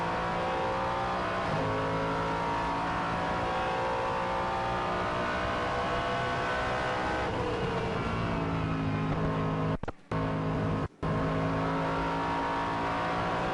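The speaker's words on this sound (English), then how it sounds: "Let's listen for a little while to that wonderful V8 engine." A V8 race car engine roars continuously at high revs, close and loud, with shifting pitch as it accelerates, two brief cutouts near the end.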